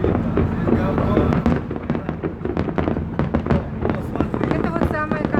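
A fireworks salute in Kazan, Tatarstan, for City Day and Republic Day, with a rapid run of sharp pops and crackling bursts, some near and some distant, and crowd voices talking underneath.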